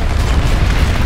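A heavy tank cannon fires in Planetside 2, a single dense, loud boom that fills the short moment with low rumble and no voices.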